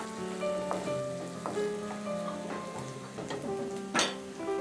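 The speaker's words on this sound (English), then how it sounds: "Sauté it on a medium flame for 1 minute." Chopped capsicum sautéing in a pan over a medium flame for masala dosa filling, a steady close sizzle with scattered clicks and taps of a spatula, one louder scrape near the end.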